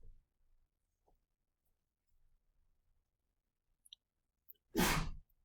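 A single short, loud sneeze in a quiet classroom near the end, following a few faint rustles and clicks.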